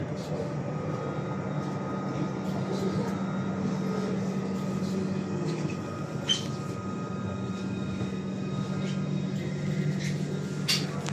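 A Stadler FLIRT train of Serbian Railways rumbles steadily along with a low hum and rattling, occasional clanks and squeaks as it slows into Belgrade Centre terminal station.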